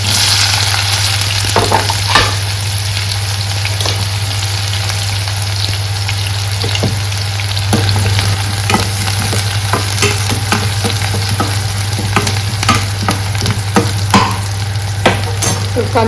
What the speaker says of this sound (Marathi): तर कांदा मस्त फ्राय झाला आहे